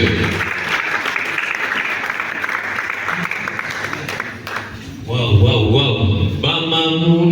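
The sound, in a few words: audience applause welcoming the master of ceremonies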